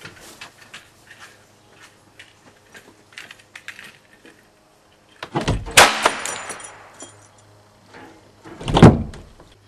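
An airsoft door trip mine loaded with a Ramsat cartridge goes off: quiet tapping and handling, then a sharp loud crack with rattling debris, and a second heavy bang shortly after, close and alone.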